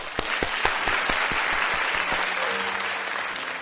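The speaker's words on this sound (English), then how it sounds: "let's reach out to welcome each other with a big round of applause" A big round of welcoming applause from the audience at an Asia-Pacific gathering: a dense, even wash of clapping over a steady music beat, continuing without a break throughout.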